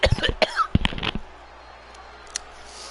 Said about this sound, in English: I'm not sure why I'm coughing so much.